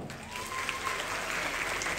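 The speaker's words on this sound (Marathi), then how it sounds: "या वहिनींना फायनलला घेत असेल तर टाळ्या वाजवा." Audience applause at a Marathi game show, a dense, steady burst of many hands clapping throughout, with faint voices underneath.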